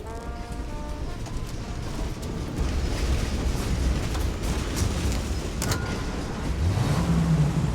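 Steady rumble of a car engine driving in the game Mafia Definitive Edition, loud and continuous with a low growl throughout and no talk.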